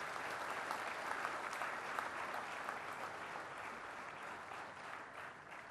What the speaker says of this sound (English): may I request all of you to give a big round of applause one more time for all our awardees tonight